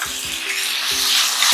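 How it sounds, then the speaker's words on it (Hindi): Chicken cubes dropped into a hot pan of lightly browned oil for restaurant-style macaroni, giving a steady close hiss of frying with a few soft thuds as pieces land. "इसके अंदर हम चिकन डाल देंगे।"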